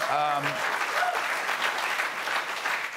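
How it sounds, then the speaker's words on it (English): A television studio audience gives a burst of loud, continuous clapping that holds steady for about three seconds. A brief voice is heard at the start. "See how they applaud when I say your name?"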